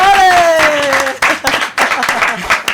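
Applause for Esther in a Catalan garden-themed show, a mix of hand claps and crowd noise under a sustained tonal voice or music at the start, fairly loud and close, continuing in bursts.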